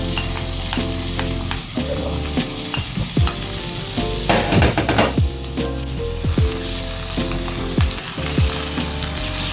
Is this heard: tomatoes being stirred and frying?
yes